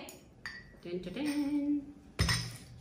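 Ceramic dishes and a spoon clink lightly while being unpacked from an online shopping haul, a few scattered taps and rattles up close, with a faint voice now and then.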